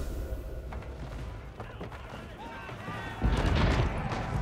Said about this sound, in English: Bombard gonna show these crossbows how to take down the palisade wall